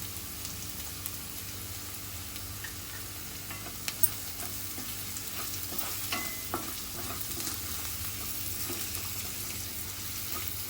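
Chopped onions gone translucent fry in a pan as turmeric is stirred in, giving a steady soft sizzle with faint scraping and stirring clicks, quiet and close, with no voices.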